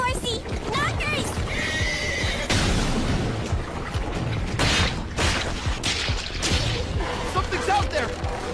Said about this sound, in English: Was that a girl on horseback? Look there, horsey!